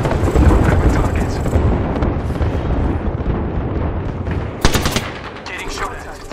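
Heavy gunfire in a shooter video game: rapid, dense bursts of shots over a constant loud roar, with a sharper, brighter volley near the end, close and intense.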